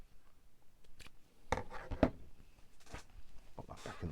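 Scissors snip through tea-dyed string, a few short crisp clicks and blade scrapes up close amid faint room rustle.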